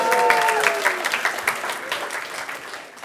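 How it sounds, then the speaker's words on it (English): A conference audience gives a round of applause, steady dense clapping from a crowd that holds through the short stretch with a faint voice at the start. "Please also give her a round of applause."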